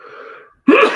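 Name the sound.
sneeze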